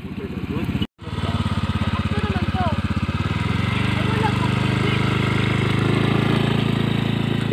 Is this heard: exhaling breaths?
no